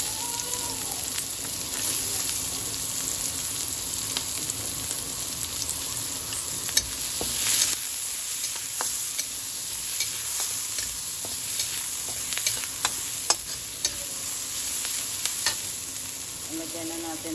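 Onion frying in a pan for a sardine dish, a dense and steady close sizzle throughout with scattered pops and a few sharp utensil clicks, no talking.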